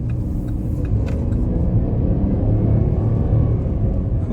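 A 2023 Chevy Traverse LT engine rises under quarter throttle toward high revs, a steady loud low rumble with road noise from inside the car, no talking.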